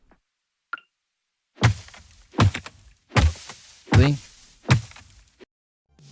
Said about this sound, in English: you hear like that low level thump when it doesn't work